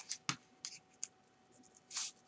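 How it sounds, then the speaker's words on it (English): Small thrift-store Fiskars scissors trimming around the edges of a paper mixed-media tag, making a few quiet, close snips and crisp paper rustles spaced irregularly, with a longer scraping cut near the end. "So I'm just cutting around."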